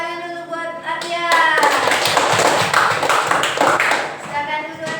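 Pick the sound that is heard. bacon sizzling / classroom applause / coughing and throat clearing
classroom applause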